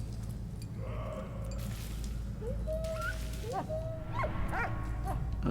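Scruffy, the dog in the video game Valiant Hearts, gives a series of yips, short barks and whimpers over a low rumbling game backdrop, getting louder and more frequent toward the end.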